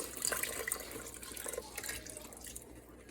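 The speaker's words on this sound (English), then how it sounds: "I'm going to pour the violet just randomly over the top" Violet dye poured over skeins of yarn lying in a pot, a soft continuous liquid splashing and trickling, close and moderately quiet, with no voices.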